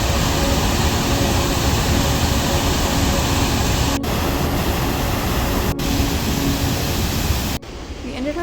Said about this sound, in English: The falls are part of the Athabasca River and are considered the most powerful in the Canadian Rockies